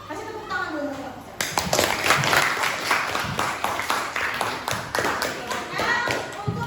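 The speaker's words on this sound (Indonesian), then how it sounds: "Kasih tepuk tangan dulu untuk kelompok 1." A classroom applauds a group of students, with a burst of lively hand clapping from many people that starts abruptly after a brief spoken moment and carries on steadily, with children's voices mixed in.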